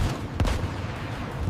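A-10 Warthog cannon fire strafing anti-aircraft gun positions, heard as one sharp burst followed by a rumbling wash of noise that fills the short moment, loud and with no talk.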